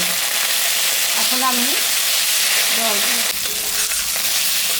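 Ginger, cumin and dried chili spice paste frying in a pan for a prawn and banana flower curry, giving a steady close sizzle with a few stirring scrapes and a brief spoken voice over it.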